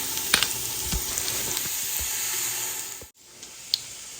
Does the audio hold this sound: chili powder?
yes